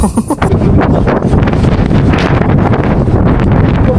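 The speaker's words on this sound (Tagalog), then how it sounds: "parang mas malakas yung hangin ngayon" Strong wind on a mountain at Fansipan, Vietnam, roars steadily and loudly, buffeting the microphone with constant rumbling gusts and no pauses.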